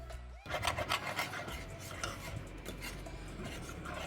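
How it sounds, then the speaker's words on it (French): A whisk scraping steadily around a pan as milk is stirred into a sauce, a continuous close rasping swish with brisk rhythmic strokes after a brief quiet start. "Il faut bien remuer pour éviter les grumeaux"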